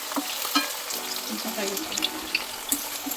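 Frying in oil in a pot for paneer biryani, a bubbling sizzle with watery crackle and several sharp spoon taps against the vessel, close and moderately loud.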